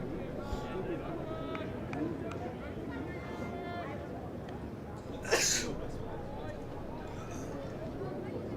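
A single sharp sneeze bursts out partway through, loud against a hum of commentary and faint crowd noise at a county championship cricket match between Middlesex and Derbyshire.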